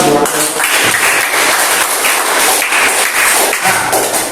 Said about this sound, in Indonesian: Beri tepuk tangan untuk Nadira.